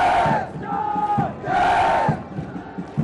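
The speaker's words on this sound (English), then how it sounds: "They cheer the cadets of the passing out course" Cadets at a passing out parade raise loud rhythmic cheers, two sustained shouted bursts from a crowd with a brief dip between them.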